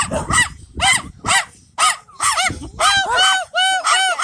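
Small dogs barking in rapid, repeated bursts, close and loud, with shrill overlapping yaps toward the end.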